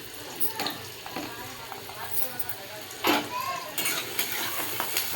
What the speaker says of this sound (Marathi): कांदा मस्त असा लालसर भाजून द्यायचा, ब्राऊन होईपर्यंत